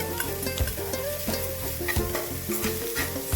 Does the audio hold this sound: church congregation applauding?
no